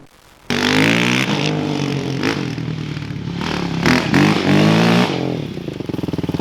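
A Yamaha YFZ 450R quad ATV with upgrades starts up and revs loudly nearby, its pitch rising and falling through several throttle bursts with some clattering.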